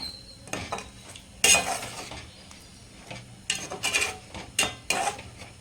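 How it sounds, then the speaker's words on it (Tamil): Green mutton tikka masala is mixed in a pan, with a spoon scraping and clinking against the metal in irregular bursts over a faint sizzle, close up and without any voices. "ஸோ இப்போ மிக்ஸ் பண்ணிக்கலாம்."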